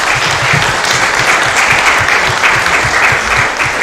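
Steady, dense applause from a large crowd, continuous and loud throughout with no pauses.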